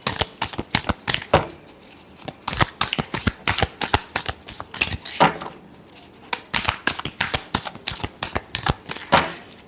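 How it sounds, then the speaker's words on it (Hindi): Tarot cards are shuffled in quick rhythmic bursts of riffling and slapping, close and crisp. The shuffling repeats continuously without any speech. "Last shuffle."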